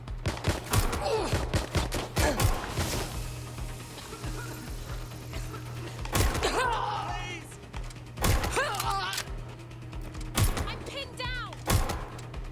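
Scattered gunshots and mechanical weapon clicks in the video game Watch Dogs Legion, firing in short irregular bursts between quieter stretches, with a steady low hum underneath.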